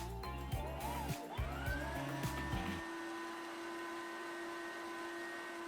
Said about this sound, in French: Puis on passe notre robot à vitesse 2 et on laisse pétrir pour 5 bonnes minutes